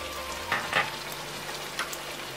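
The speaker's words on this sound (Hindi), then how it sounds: "इसको हम 5 मिनट और भूनेंगे।" Meat browns in a pan with onion, cumin powder, garam masala and spices, giving a steady moderate sizzle with a few soft stirring scrapes, close by and free of talk.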